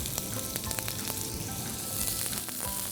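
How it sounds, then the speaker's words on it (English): Onions frying in hot oil for an egg masala dish give a steady, dense crackle and sizzle with scattered sharp pops. It is close and loud throughout, with no voices. "And the oil is hot. We'll start by adding in onions."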